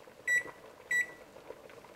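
Two short, high electronic beeps from an oven timer being set, spaced about half a second apart, clear and close in a quiet kitchen.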